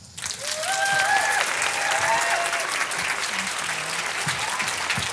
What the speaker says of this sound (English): So I would like you to give a large round of applause to Enid Hwang.